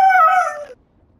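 A friend's dog heard over a microphone during a Black Ops 3 Zombies session, letting out a single short, loud whining yelp that cuts off abruptly into near silence.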